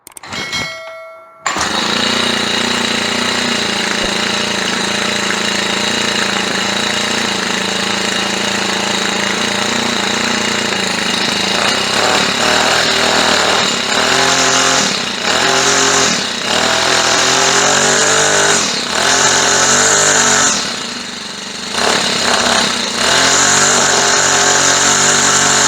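A small Cub Cadet four-stroke engine starts up with the choke on and keeps running, a loud, steady buzzing drone with brief surges and dips in pitch as it settles.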